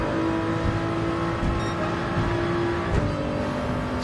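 Engine of a Toyota GR3 Supra race car in a racing video game, a steady loud drone holding pitch with a brief shift near the end, continuous and close with no talk over it.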